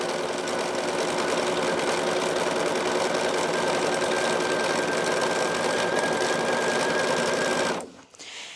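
A sewing machine runs steadily while stitching a tote bag strap, a loud continuous mechanical whir with fast rhythmic chatter that stops abruptly near the end, with no talking.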